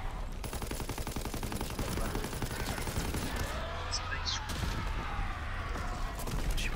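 Sustained rapid gunfire in Call of Duty WW2 zombie mode, aimed at a zeppelin, rattling loudly and continuously with dense automatic bursts, mixed with game effects and some voice underneath.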